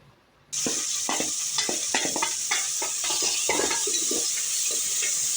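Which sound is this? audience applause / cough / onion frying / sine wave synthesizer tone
onion frying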